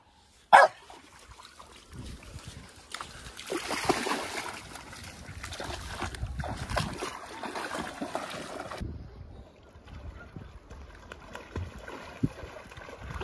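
A dog gives one loud, abrupt bark on a rocky Sardinian shore by the sea, followed by a wash of water and wind noise.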